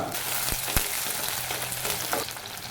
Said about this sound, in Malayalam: ചൂടായ ചട്ടിയിലേക്ക് രണ്ട് ടേബിൾ സ്പൂൺ വെളിച്ചെണ്ണ ഒഴിച്ചു കൊടുക്കാം അര ടീസ്പൂൺ കടുക്